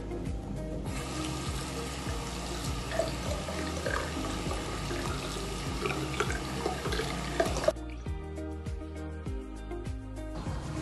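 Tap water runs continuously into a sink while a British Army beret soaks. The gushing is steady and fairly close, then shifts to a thinner trickle with drips near the end. No one speaks.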